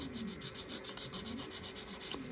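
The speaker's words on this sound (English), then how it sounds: "we'll come in with just some finer grit paper" Close, quiet rhythmic rubbing of fine grit sandpaper over a 1/200 scale model ship hull, brisk back-and-forth strokes repeating several times a second.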